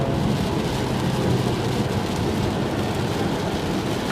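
Steady rain while driving a Tesla Model 3 on Toyo Proxes Sport A/S tires on a twisty wet road: a dense, constant hiss of spray and drumming, loud and unbroken throughout.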